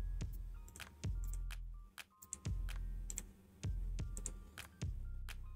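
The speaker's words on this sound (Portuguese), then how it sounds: "eu uso as setas aí do teclado" Arrow keys on a computer keyboard tapped while working in Tajima embroidery software: a dozen or so crisp, quiet clicks in an irregular rhythm, close by, with no talking.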